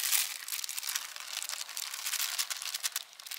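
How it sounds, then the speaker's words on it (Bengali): Gram flour (besan) batter being stirred by hand, a close, continuous wet crinkly churning with quick irregular strokes, nothing else heard. "বেসন গুলে নিচ্ছি।"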